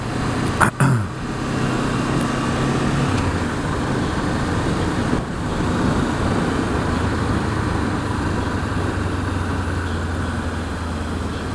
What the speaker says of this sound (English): That's a lot of traffic.